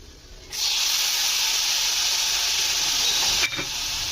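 Soaked chana dal hitting hot oil for daudke bhaji: a sudden loud hissing sizzle bursts in after a quiet moment, stays strong and steady, and briefly dips with a clatter near the end.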